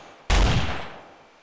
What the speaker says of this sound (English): An Uzi. Let's see what happens when I fire on this thing.